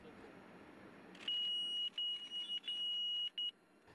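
A sharp, high electronic beeping from a car's collision warning alarm starts suddenly and sounds in several long tones with short gaps, over a faint background hum.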